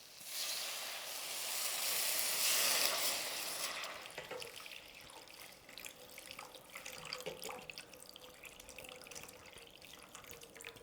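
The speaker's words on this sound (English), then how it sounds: "So when you put the dashi broth into it, it will have sort of a deep taste" About two cups of dashi broth pour into a pot for tteokbokki, a loud rushing splash for the first few seconds, then softer trickles and drips as the stream thins out.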